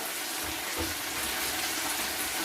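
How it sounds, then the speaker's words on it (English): Water from cooked stir-fry noodles pours out as they drain into a colander, a steady close rushing splash that lasts throughout with no talking. "Noodles into the colander"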